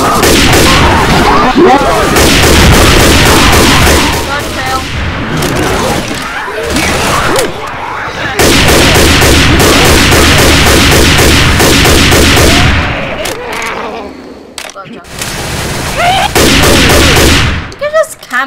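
Heavy, sustained gunfire from the Left 4 Dead 2 zombie shooter on the Cold Stream campaign, loud, dense volleys of rapid shots with crashes and brief lulls, running almost continuously.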